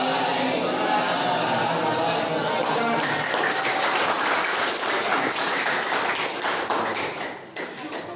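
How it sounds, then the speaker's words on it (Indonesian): Classroom audience applauding a presenting student group, a dense burst of many hands clapping steadily for several seconds, loud and close, thinning out near the end. "Lagi tepuk tangan untuk teman kita yang presentasi tadi."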